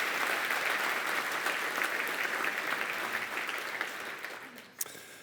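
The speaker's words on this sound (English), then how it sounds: "can we have a round of applause for our community engagement category" Steady conference audience applause at an awards closing plenary, a dense patter of clapping that holds for several seconds before tapering off near the end.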